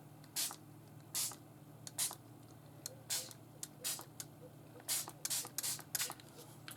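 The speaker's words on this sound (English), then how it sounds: "So maybe I'll spray it just a little bit," Short, quiet hissing bursts of orange-pink colour spray come in an irregular series of about a dozen quick puffs over a faint steady background hum.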